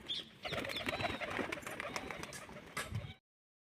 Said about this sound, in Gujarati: એક કબૂતર ફડફડ કરે છે